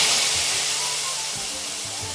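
Cashews fried in ghee are tipped into a pot of jackfruit payasam, giving a loud, steady sizzling hiss that tapers only slightly over about two seconds, with no voices.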